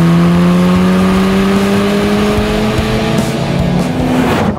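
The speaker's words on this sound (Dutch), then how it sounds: "Maar luister eens even hoe die 2 liter TFSI klinkt." Volkswagen Golf R (2017) with a 2-litre TFSI engine through an Akrapovic exhaust, revving loud and close as the engine note climbs steadily in pitch for several seconds, gritty and continuous with no talk over it.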